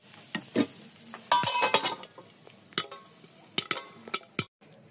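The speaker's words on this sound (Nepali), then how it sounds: "म चाहिँ यसरी तेल लाएर भुट्छु हैन, कति छिटो फुलिहाल्छ" Corn kernels fry in oil and pop with sharp, scattered cracks over a soft sizzle, alongside the scrape of a utensil stirring in the pan, close and moderately loud.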